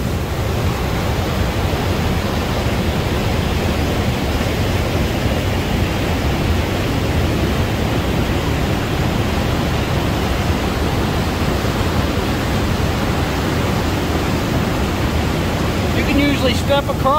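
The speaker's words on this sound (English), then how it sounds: "The water's roaring." Roaring river water at Dead River Falls during spring runoff, a dense, constant broadband rush that stays loud and unbroken throughout, with no talking.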